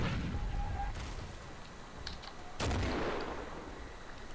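Gunfire in the Darkest Hour World War II shooter game, with an MG42 machine gun firing amid heavy battle noise, sharp distant and nearer shots and a loud blast standing out over the din.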